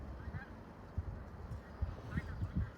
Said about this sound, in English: I think those are the birds returning.